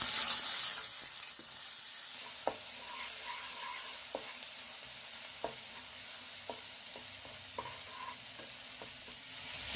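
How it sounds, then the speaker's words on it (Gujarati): Ginger garlic paste sizzling in hot oil with cumin, bay leaf, cloves, cinnamon, red chilli, curry leaves and asafoetida, a steady crackling fry punctuated by sharp spoon taps and stirring scrapes, no talking. "હવે આપણે આમાં 1 ચમચી આદુ લસણની પેસ્ટ નાખીશું"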